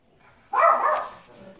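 Dogs barking at a bird outdoors by a patio, one short burst of a bark, moderately loud and somewhat muffled, with no talk over it.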